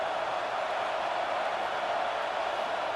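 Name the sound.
crowd roaring in NCAA 26 football video game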